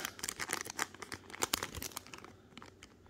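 A sealed, empty trading card wrapper crinkles and crackles as it is handled up close, with rapid irregular bursts of crumpling that thin out toward the end.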